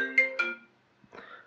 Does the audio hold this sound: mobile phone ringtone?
yes